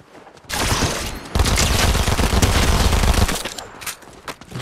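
Rapid automatic gunfire bursts from the video game Fortnite, loud and sustained for about two seconds, then tapering into scattered single shots.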